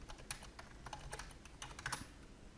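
Rapid keystrokes on a computer keyboard while entering a PowerShell command on a Windows Server 2019 machine, a quick irregular run of close, crisp clicks with a few louder taps and no talking.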